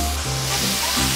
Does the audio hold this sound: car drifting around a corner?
no